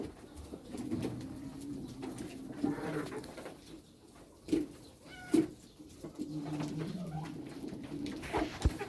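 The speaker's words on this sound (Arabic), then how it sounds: "الطيور اهي بياكلوا." Pigeons coo softly at close range while feeding on grain, with low, repeated coos and faint rustling from the birds.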